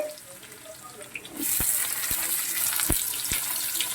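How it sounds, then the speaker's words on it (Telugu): Ginger frying in oil in a home kitchen pan for a white eggplant stir-fry, a steady broadband sizzle that swells after a quiet start, with a few sharp clinks of a utensil against the pan. "శుభ్రంగా కొంచెం అల్లం వేగాలన్నమాట"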